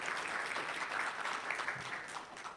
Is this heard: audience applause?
yes